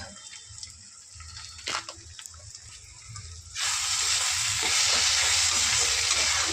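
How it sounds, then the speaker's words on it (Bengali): Ground cumin, Kashmiri chilli, turmeric and coriander powders fry in hot oil for a tadka. There is a faint low bubbling at first, then a sudden loud, continuous hiss flares up about halfway through and holds to the end. "সব মশলাগুলো দিয়ে ভালো করে কষিয়ে নেবো"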